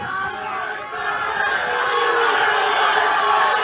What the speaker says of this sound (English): he was met with some "Pay Micah" chants from the crowd